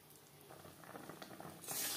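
Raw mango chutney simmering and thickening in a pan gives a steady bubbling sizzle with soft patters, growing louder and hissier near the end, with no voices.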